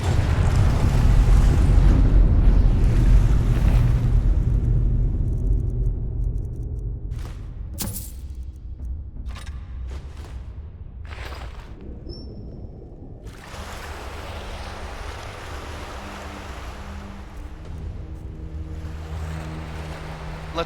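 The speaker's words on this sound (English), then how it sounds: "Fills with water." Water rushing and flooding into a chamber in Skyrim, a loud churning wash at first that eases into a steadier, quieter swirling flow with a few sharp knocks partway through.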